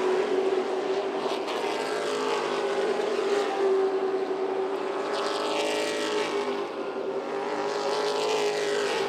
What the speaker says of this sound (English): Through 1 and 2 they go, and they spill onto the backstretch, passing some lap traffic.